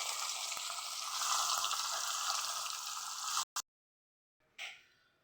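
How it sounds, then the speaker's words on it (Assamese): Fish pieces sizzle in hot oil in a pan, a steady close frying hiss that cuts off abruptly, followed by a brief short sizzle after a pause. "এতিয়া মাছটো সম্পূৰ্ণ ভাজা হৈ গ'ল"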